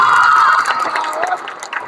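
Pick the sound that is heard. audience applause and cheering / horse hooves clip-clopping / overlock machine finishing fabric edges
audience applause and cheering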